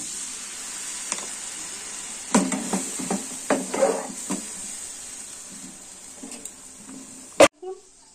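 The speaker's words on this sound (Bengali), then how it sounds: "তো এবার আমি সামান্য জল দেব।" Water splashes into a hot pan of raw egg curry and sets off a brief hissing sizzle with a few clatters, while a voice talks nearby.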